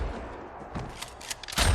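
A shotgun blast in a scene from the movie Terminator Genisys: a single loud, sharp boom arrives near the end after a brief stretch of quieter rumbling action sounds.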